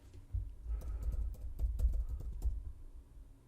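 Close typing on a computer keyboard, a quick burst of soft key taps with a pause near the end, alone with no talk.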